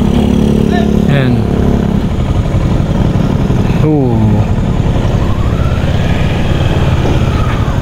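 A motorcycle engine idles while warming up, giving a steady, loud rumble that runs through the whole stretch, with people briefly talking over it near the start and again midway.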